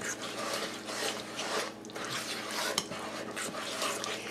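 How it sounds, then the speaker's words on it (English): Pecan bar batter is stirred by hand in a bowl, the spoon scraping and swishing in a continuous rhythmic loop with repeated strokes, close and fairly loud. "So we're just going to stir this together"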